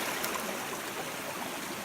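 Steady river water rushing and trickling through a natural rock sluice on the Weld River, a continuous even wash with no voices.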